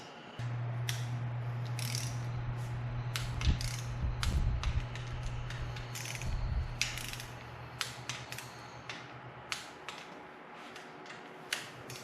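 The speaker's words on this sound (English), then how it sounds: "we're going to torque this down to 18 foot-pounds" Hand ratchet torquing oil pump bolts to 18 foot-pounds on a 2005 Chevy Corvette engine, repeated clicking ratchet strokes and creaky metallic turns close up, over a steady low hum, with no talk.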